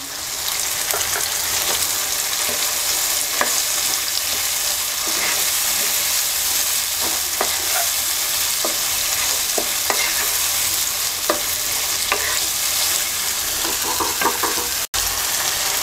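Rohu fish curry with green chillies frying in a pan, a steady loud sizzle with scattered scraping stirs of a spoon against the pan, a sharp clack near the end, no talking.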